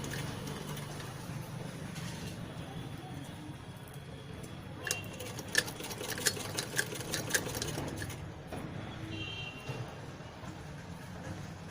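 A sewing machine stitches piping onto a net blouse, a quiet steady whir with a brief run of rapid ticking needle strokes in the middle, heard alone at low volume.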